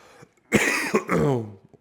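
A person with a cold and flu coughs a few times, close and loud, in short harsh bursts with a throat-clearing quality.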